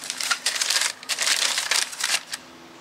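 Individually wrapped brake pads for a 2018 Jeep Wrangler Unlimited Sport front brake job being unwrapped, giving bursts of close, crisp crinkling and rustling of packaging that come and go with brief pauses.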